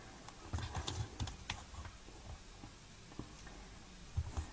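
Adhesive tape is pulled from a roll and pressed down while assembling a paper mini album, giving soft close ticks and light pats in a short irregular series with no talk over them.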